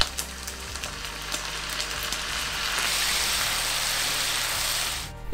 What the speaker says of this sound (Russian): Вливаем соевый соус.